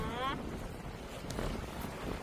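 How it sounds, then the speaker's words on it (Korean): Strong wind buffeting the microphone on a fishing boat at sea, a constant low roar and rumble throughout with a brief higher whistle at the start. "바람이 많이 많이 너무 많이 불어요."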